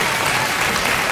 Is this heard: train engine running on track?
no